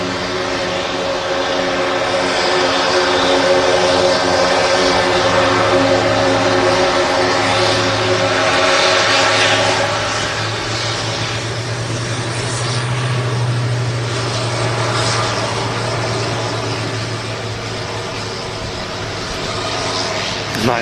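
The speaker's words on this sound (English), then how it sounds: "The Jetstream with Eastern Airways." An Eastern Airways BAe Jetstream turboprop at Manchester Airport makes a loud, steady engine drone with a low propeller hum that swells and fades slightly across the stretch, heard alone without speech.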